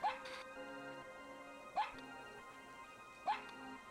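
Three evenly spaced dog yelps with whimpering tails come from the video game Musashi: Samurai Legend, each a sharp high cry over a steady tonal game soundtrack, moderately quiet and repeating about every second and a half.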